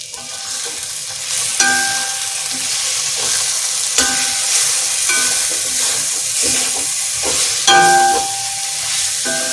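Chicken being sautéed with garam masala in a pan for a coriander and curry-leaf chicken curry, a loud sustained sizzle broken by repeated spatula scrapes and knocks at irregular intervals, with no talking.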